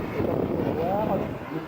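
A homemade turbine-powered RC model jet flies at a model jet meeting. Its steady broadband roar carries a brief whining tone that rises and falls midway.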